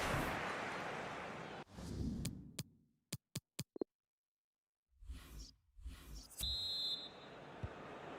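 A referee's whistle sounds a single sharp blast near the end, amid steady crowd noise at a Spanish cup football match, after a few isolated knocks and a brief silence.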